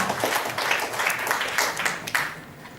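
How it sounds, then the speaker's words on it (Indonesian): Applause from a seated audience at a business presentation event, steady dense clapping of moderate loudness lasting a few seconds, with no talking over it. "Aplaus dulu buat Bapak Ezra"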